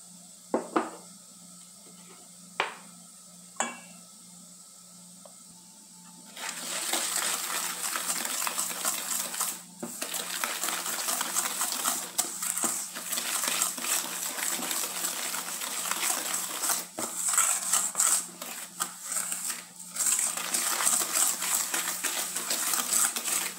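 Egg, sugar and butter being mixed in a bowl for a budget cake, a few sharp knocks at first, then continuous scraping and sloshing strokes close by, with no talking.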